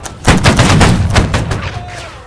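A loud volley of gunfire in a video game, a rapid cluster of sharp, overlapping shots close by that thins out into a few trailing reports.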